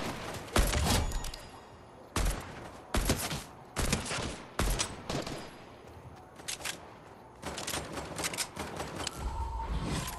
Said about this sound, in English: Shooting behind us.